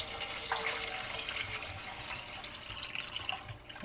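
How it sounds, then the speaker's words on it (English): Water is poured into a cat's automatic pet water fountain, a soft, quiet trickle and splash that continues steadily with small drips and no voices. "We'll add some water."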